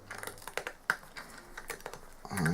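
Small scissors trimming flash from a resin casting, a quick series of light, dry snips and clicks up close, irregular in rhythm, ending with a brief handling rustle.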